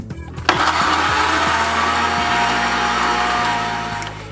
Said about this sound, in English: let the blender go until you can no longer hear the ice rattling around